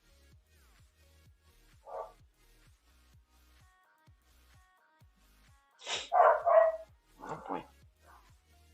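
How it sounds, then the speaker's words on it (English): Dogs barking indoors at home: one short bark, then a loud cluster of barks and yips a few seconds later followed by a couple more, with a person speaking briefly. "Why are we barking?"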